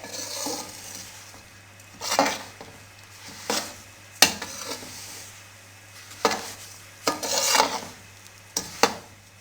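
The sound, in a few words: spoon stirring semolina roasting on low flame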